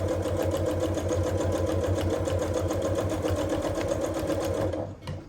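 Sewing machine stitching a tote bag runs in a steady, fast continuous whir close by for about five seconds, then slows and stops at the end as the seam is finished.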